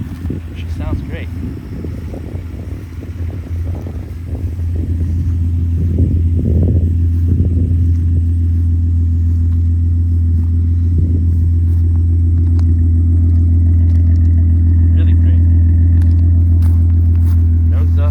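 A car engine idles steadily nearby, a low continuous hum and rumble that gets louder partway through and then holds, with people talking over it early on.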